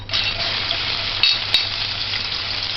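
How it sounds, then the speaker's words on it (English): Onion sizzling as it is stir-fried in a pan for stewed cabbage, a steady close hiss with a couple of brief sharp clicks from a spoon or spatula, no talking. "Stir fry the onion."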